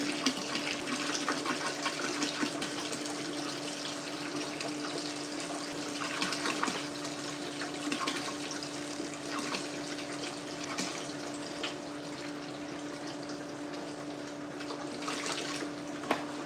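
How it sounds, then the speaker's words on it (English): Water runs steadily into buckets for a hydroponic grow system inside a grow tent, a constant rushing flow with a steady hum underneath, close and unbroken for the whole stretch, with no talking. "All right, so we've filled up the buckets."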